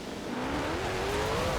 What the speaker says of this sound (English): This does sound better than the Crew 2's version of this car.